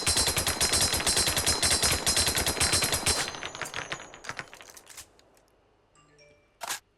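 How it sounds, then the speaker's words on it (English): MP18 submachine gun firing in a video game: a long, loud, rapid stream of shots for about three seconds, then it stops and trails off into faint mechanical clicks and a brief metallic clack. "you can expend all 32 rounds of the MP18 magazine"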